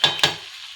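A large batch of chow mein noodles is stirred in a frying pan, two quick scraping strokes followed by a short fading sizzle, close and fairly quiet.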